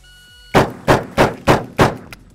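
An S&W 500 Magnum revolver fires five loud, close shots in quick succession, roughly a third of a second apart, each a sharp blast with a short decaying tail.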